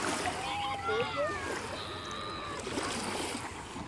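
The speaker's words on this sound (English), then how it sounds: "Just some big waves." Waves slosh and splash around a kayak on open water, with wind noise and excited voices talking and shouting over the choppy surf.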